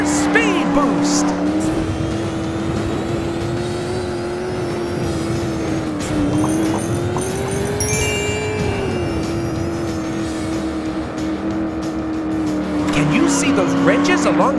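A monster truck engine drones and revs steadily while racing in the Blaze and the Monster Machines video game, with tire squeals and whooshing boost effects over a loud continuous mix and a voice talking over it.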